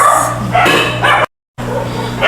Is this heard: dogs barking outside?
yes